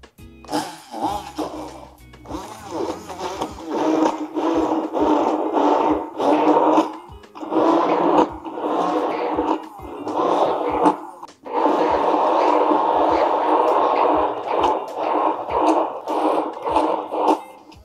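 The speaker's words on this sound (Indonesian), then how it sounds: "kita blender sekarang" A blender grinds shallots, garlic and oil into a spice paste, a loud rough motor churn that surges and stalls in uneven bursts with brief pauses, close by.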